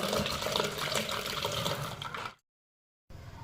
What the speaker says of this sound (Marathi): आता यातील पाणी काढून घेऊया आता हे पाणी गरम आहे त्यामुळे आपल्याला एक चाळण आणि एक रिकामं भांड लागणार आहे